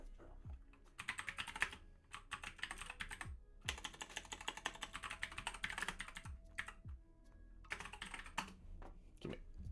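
Fast bursts of typing on a computer keyboard while programming, with crisp close key clicks in quick runs separated by short pauses, fairly quiet and with no talking.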